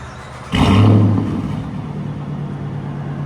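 A procharged Dodge Charger R/T with a mid delete and Corsa Xtreme exhaust roars to life in a loud, close rev burst, then drops back to a deep, steady rumbling idle with no talk.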